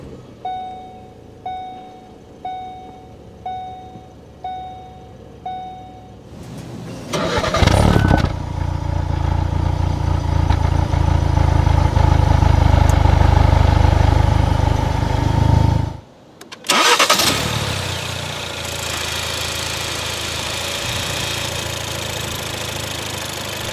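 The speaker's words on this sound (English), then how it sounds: "put your foot on the clutch and hit the dash-mounted button to go" A third-generation Ford Focus RS engine starts by push button after a series of warning chimes, catching with a loud burst and settling into a steady, close idle, then briefly cutting out and firing up again.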